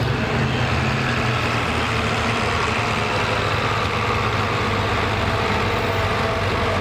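Heavy truck engine at a truck and tractor pull, a loud continuous low roar that runs steadily throughout with no pauses.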